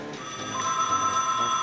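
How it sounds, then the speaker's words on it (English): A telephone rings steadily, a sustained electronic bell tone running through the whole moment at moderate loudness with no one speaking. "that is a phone call"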